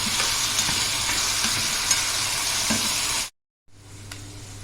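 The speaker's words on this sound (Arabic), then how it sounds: "نزلت بقى بالقلب والكلوه الاول زي ما قلت لكم عشان خاطر بتاخد سوا زياده عن الكبده" Beef heart and kidneys fry in a hot pan with a loud, steady sizzle that cuts out abruptly for a moment, then returns somewhat quieter.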